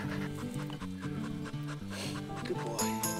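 A tired hunting dog on a Mearns' quail hunt pants rapidly and rhythmically close by, quick breaths repeating steadily over a busy outdoor background.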